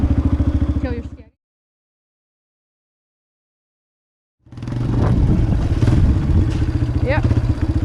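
Small motorcycle engine idling and revving as a child learns to ride, a steady chugging rumble that cuts out for a few seconds and then returns louder, with voices talking over it.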